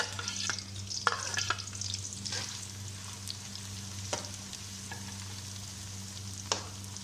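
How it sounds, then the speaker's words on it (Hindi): Onions fry steadily in a hot pan for mutton karahi, with scattered clicks and scrapes of stirring and a low hum underneath. "प्याज को फ्राई करेंगे।"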